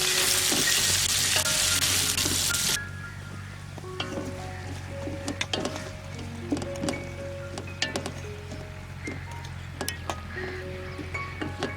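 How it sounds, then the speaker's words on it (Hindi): Carrots and blanched almonds frying in oil over a medium flame: an intense sizzle that drops to a softer, steady crackle partway through, with scattered clinks and scrapes of stirring close by and no talking. "तीन से 4 मिनट इसको हमने फ्राई किया है मीडियम फ्लेम के ऊपर"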